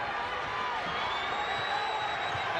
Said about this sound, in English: the crowd has really become a factor